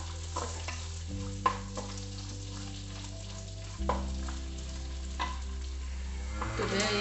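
Onions frying in oil in a pan for a Tulu-style bangude (mackerel) fish curry, with a steady sizzle and occasional scraping stirs, close and continuous with no talking.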